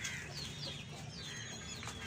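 Aseel chickens cluck faintly amid a busy farmyard, with short clucks and higher chirps scattered over a steady low background.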